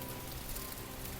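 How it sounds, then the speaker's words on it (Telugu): Heavy rain pours in Bath city centre, producing a steady, dense hiss of drops hitting the ground, heard faintly and evenly with no voices. "ఎట్లా అడుగు పెట్టాం అట్లా వాన పడుతుంది, ఫుల్ వాన."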